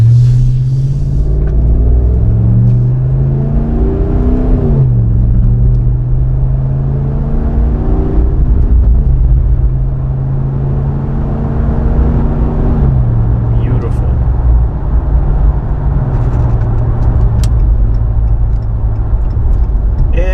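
A 2009–2018 Ram 1500 pickup with a TOTALFLOW 415633 muffler, driven through U-turns, gives a deep exhaust rumble that rises and falls with revving and gear changes, close and fairly loud, with some talk over it.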